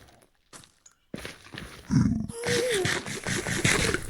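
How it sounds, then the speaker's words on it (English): Minecraft blaze mob in a Nether Fortress, giving off rough grunting, breathy growls and crackling bursts that build from sparse sounds into a steady loud rumble, with no one talking. "now those blazes are going to be sitting up there making noise"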